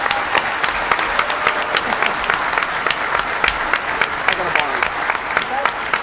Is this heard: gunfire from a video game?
no